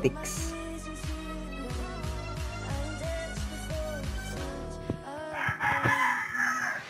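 A rooster crows over a busy rhythmic music track with steady beats, followed by brief clucking-like sounds near the end.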